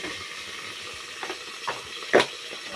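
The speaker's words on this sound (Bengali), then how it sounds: "জাস্ট একটু লাল করে ভেজে নিই।" Cauliflower frying in a pan with salt and turmeric, a soft steady sizzle broken by a few small pops and one louder scrape or clink near the end.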